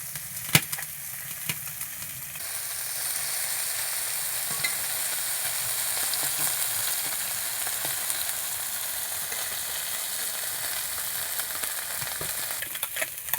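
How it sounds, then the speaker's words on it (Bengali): Small fish frying in a pan for a village-style dish, a steady bright sizzle that swells after a few seconds and holds, with scattered clicks and scrapes of stirring, close by and without speech. "এই দেখো বন্ধুরা, মাছটা কত সুন্দর এই যে ভাজা ভাজা হচ্ছে।"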